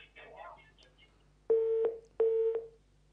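Two short electronic telephone tones, each about a third of a second, sound close and clear as a call connects on a live religious call-in broadcast, following a brief stretch of faint background murmur.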